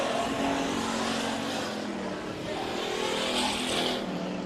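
Race cars roar through a heat race at Bakersfield Speedway, a loud, continuous engine drone that swells and fades as the pack passes, with faint announcing underneath.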